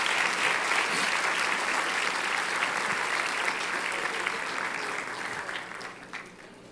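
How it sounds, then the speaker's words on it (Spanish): A congregation at a church service claps loudly for men on stage, the applause full and continuous, then thinning and fading away near the end. "Denles un aplauso a estos hombres de Dios."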